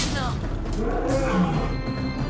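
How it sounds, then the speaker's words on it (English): A lion roars in an animated special, a loud growling roar that rises and falls over a couple of seconds, with a voice mixed in around it. "Yay, a lion!"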